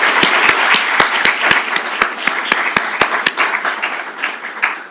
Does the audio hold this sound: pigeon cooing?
no